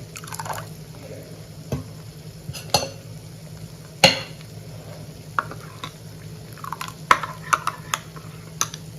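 A spoon stirring a thin rava and poha batter for uttapam in a bowl, soft wet swishes and scattered sharp clinks against the bowl's side at irregular intervals, close and fairly quiet.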